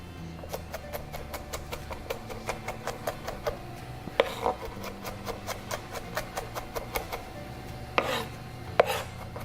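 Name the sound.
knife mincing garlic on a cutting board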